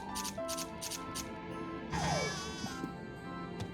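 Sheep bleating in the farm game Harvest Moon Animal Parade during milking, a repeated wavering bleat over steady game music and chimes, fairly close and clear.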